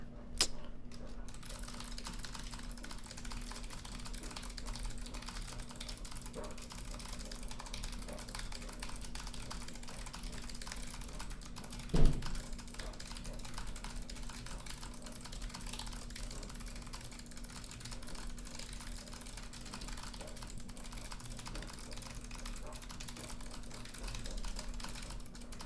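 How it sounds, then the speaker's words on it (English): Rapid, steady typing on a computer keyboard, dense quiet clicking throughout under a constant electrical hum, with one sharper knock midway. "I don't know what my max theoretical typing speed is."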